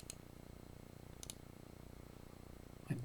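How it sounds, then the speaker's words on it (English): A few sharp, dry mouse clicks, spaced a second or more apart, quiet against a faint background hum. "using a right mouse click."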